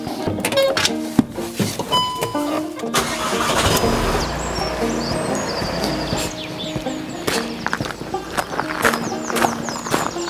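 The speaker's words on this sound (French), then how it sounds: "Là on se dirige directement à la ferme avec le camion et avant ça je le mets à chauffer" A farm truck engine starts and idles to warm up, a steady low rumble running throughout with clunks and rattles on top. Brief birdlike chirps and other farmyard sounds can be heard around it.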